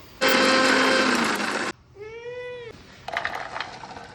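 Roasted whole spices, including fenugreek seeds and black pepper, are coarsely ground for a spicy chilli pickle: a loud, steady electric grinder whir lasting over a second, then a brief rising tonal whine and softer rattling.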